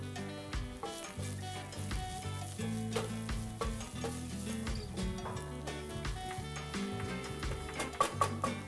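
Ginger-chilli paste and spices with cumin seeds sauté in a pan for a North Indian paratha filling, a steady close sizzle with frequent stirring scrapes and utensil ticks throughout.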